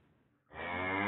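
A man imitates a cow, a single rising moo that swells and holds after a short quiet lead-in, heard over a phone-in line.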